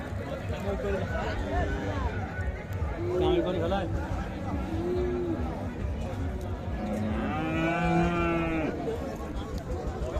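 Cows mooing at a crowded livestock fair in Dinajpur where cows and calves are sold, several drawn-out lowing calls rising over a constant babble of voices and people talking nearby.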